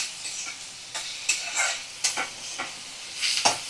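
Potatoes, onion and eggplant frying in a pan, with bursts of sizzling and spatula stirring scrapes in an irregular rhythm, close and fairly loud, no speech.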